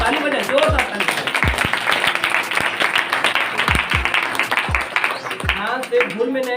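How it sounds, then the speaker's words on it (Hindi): A church congregation claps loudly during a Hindi-language worship service, with sharp, rhythmic hand claps repeating through the stretch while a voice talks over them. "जोरदार ताली बजाएं, जोरदार ताली बजाएं।"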